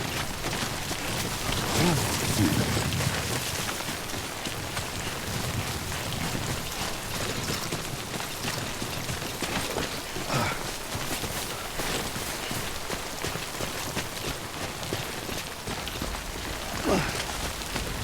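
Steady rain pours down in the video game Death Stranding, a constant hiss with scattered louder patters and faint low rumbles throughout.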